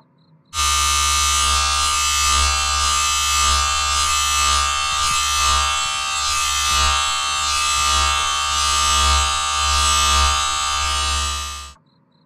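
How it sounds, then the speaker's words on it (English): An electric shaver runs nonstop for about eleven seconds while shaving off a man's hair, a loud close steady buzz that starts and stops abruptly with faint wavering as it moves. "I am going to shave off his hair."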